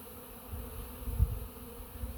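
Bees swarm and buzz around a hive after a few days of rain, making a low, steady droning hum with a brief louder swell as one passes close.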